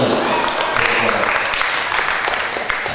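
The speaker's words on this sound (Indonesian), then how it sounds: "Sebelumnya tepuk tangan dulu." Applause from an audience at a year-end reflection event at STSI Bandung, a broad wash of clapping with speech-like sounds mixed in over it.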